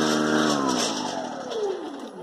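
Snow Joe lithium two-stage snow blower with a brushless motor starting up, a whining electric hum that sweeps in pitch as it spins up, close and steady, with a voice speaking under it.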